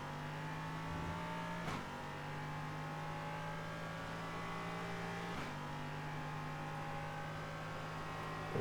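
A race car engine on track at Portland International Raceway, heard close from on board, pulling hard and rising in pitch through the gears with brief drops at each shift.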